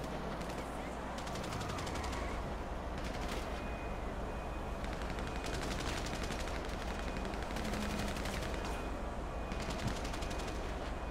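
Rapid automatic gunfire in GTA V, dense repeated bursts crackling near and loud through a steady wash of game noise, pausing briefly between volleys.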